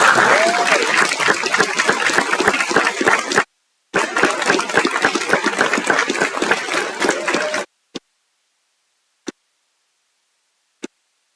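An audience applauds at a signing day ceremony for students at a technical college in Murfreesboro. Sustained clapping breaks off for a moment, resumes, then cuts out, leaving only a few isolated claps at the end.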